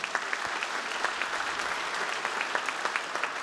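Steady applause from an audience at a school talk, a dense, even patter of many hands clapping at moderate loudness throughout, with no voices over it.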